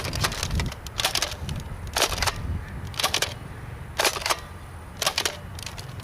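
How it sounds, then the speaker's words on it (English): Nerf Dart Tag Furyfire blaster firing foam darts, sharp clustered snaps and clacks in bursts roughly every second, close and loud over a low background hum, no talking. "Okay, now we're done shooting the darts."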